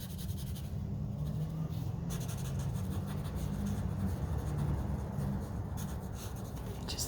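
Markers scratch and scrub back and forth while a mushroom drawing is colored over, a soft, close, continuous scribbling texture with faint low background hum.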